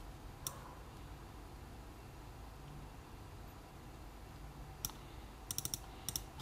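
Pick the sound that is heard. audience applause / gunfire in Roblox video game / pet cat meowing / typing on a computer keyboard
typing on a computer keyboard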